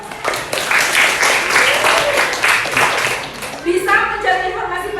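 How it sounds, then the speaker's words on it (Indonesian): Classroom applause from a sixth-grade class, a few seconds of lively, fairly loud clapping, followed by a teacher speaking. "Iya, tepuk tangan."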